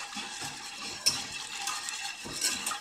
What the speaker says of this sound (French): Alors là, on mélange le sucre.